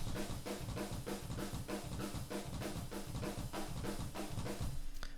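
Uncompressed drum room mic tracks from a metal mix: a steady, driving drum pattern with booming low hits and a bright cymbal wash, played alone at a constant level.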